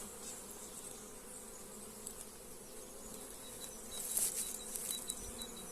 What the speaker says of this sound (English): There's just so many bees in here.